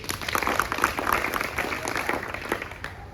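A group claps steadily in a dense, continuous patter of applause, moderately loud and filling the room, with no clear voices over it.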